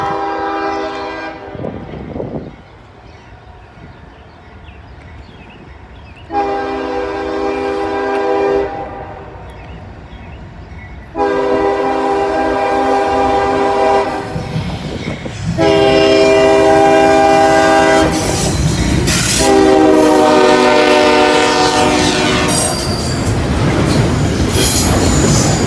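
A freight train rolls past while crossing over from one track to another, its horn sounding in several long, loud blasts over a steady rumble of wheels and cars close by, with squealing rails toward the end.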